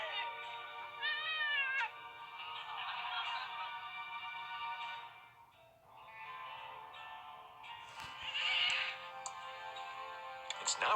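A cat meows repeatedly on a TV show playing inside the Thimbleweed Park adventure game, heard in clear bursts over a steady electronic background hum.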